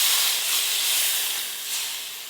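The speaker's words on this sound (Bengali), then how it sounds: "এবার সামান্য একটু জল দিয়ে দেব" Water poured onto frying fish and spice paste in a hot pan sets off a loud, steady steam hiss that fades slightly toward the end.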